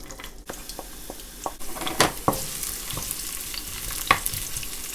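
Yellow onion frying in a tablespoon or two of hot non-flavored oil for fried rice, a steady close sizzle broken by several crisp crackles and stirring scrapes.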